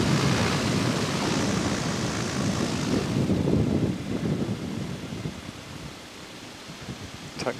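A gyrocopter taxis onto the runway centre line, its propeller engine producing a loud, steady broadband drone that eases to a lower rumble partway through, heard close without any speech.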